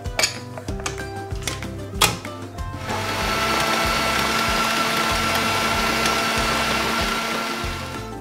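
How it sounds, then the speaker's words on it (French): A food processor mixing egg yolk and berries starts with a few short pulses, then runs continuously with a steady, loud whirring motor drone and churning contents for several seconds before easing off slightly. "vous mettez tous les ingrédients dans le bol de votre robot"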